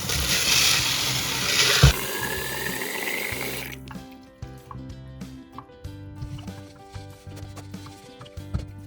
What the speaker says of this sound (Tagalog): refill the water until 3/4 fill of the jar